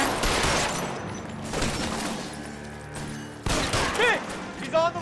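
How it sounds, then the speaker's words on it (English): Gunfire in the L.A. Noire video game, loud bursts of shots cracking through a busy, noisy scene, with voices talking and shouting among them. "apparently they're shooting at your ass now"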